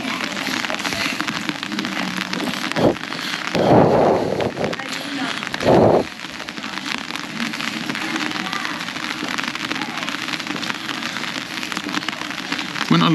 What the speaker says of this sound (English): It's still raining. It's properly raining.